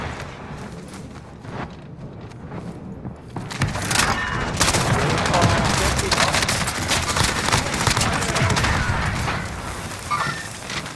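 Gunfire in a first-person shooter match, a player pinned upstairs in a building under fire: dense bursts of SMG shots and crackling impacts swell after a quieter start and keep going, with game noise under them.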